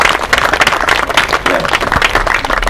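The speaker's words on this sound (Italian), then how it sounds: "Un applauso per Giulia e per Massimo." Loud, dense applause from an audience at a poetry reading, many hands clapping close together without pause.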